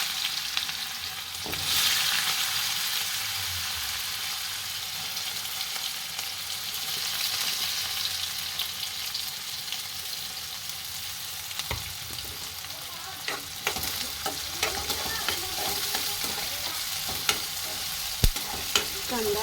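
Chopped onion frying in a pan with bay leaf and cumin, a continuous close sizzle and hiss with occasional stirring scrapes and clicks throughout.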